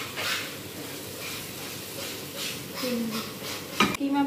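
Keema (minced meat) cooking in a pan with curd, giving a steady low sizzle with a few metallic clinks of a utensil against the pan near the end.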